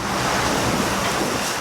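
Rough seas and strong wind in the Scotia Sea, heard from a ship en route to South Georgia, as a dense, steady roar of churning water and buffeting gusts.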